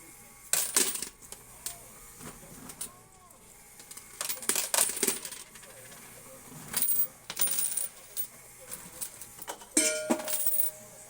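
Quarters drop off a coin pusher machine in an arcade in several separate bursts of clinking metal, close and bright over a low hum, with no talk.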